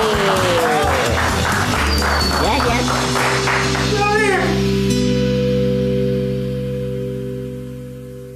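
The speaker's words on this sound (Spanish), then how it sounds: "¡Fuerte el aplauso para Sabri!" An audience claps in the studio of a children's puppet TV show, a burst of applause with voices over it, fading off toward the end as a sustained tone lingers.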